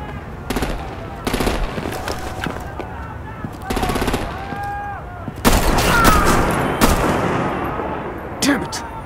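Bursts of gunfire and artillery from Batman The Enemy Within: several rapid machine-gun volleys crackle loudly, followed by a heavier, sustained barrage of booming fire, with brief dialogue and tonal game sounds woven between the shots.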